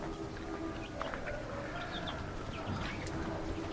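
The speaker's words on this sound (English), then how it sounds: "And our chickens are quite happy." Soft, scattered clucks from hens and a rooster and bird chirps over a steady outdoor background hum, fairly distant and irregular.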